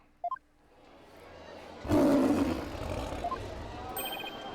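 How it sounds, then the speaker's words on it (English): A warbird, a local bird in the Apollo Justice game, lets out a loud, lion-like roaring cry that swells suddenly after a quiet stretch and a couple of short chimes, then trails off with faint tones. "It's the cry of a local bird known as a warbird."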